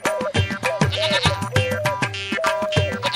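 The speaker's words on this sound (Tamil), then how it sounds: "ஐயோ, என் ஆட்டுக்குட்டி." A lamb bleats repeatedly in short wavering cries, loud and close, with brief pauses between calls and no other sounds.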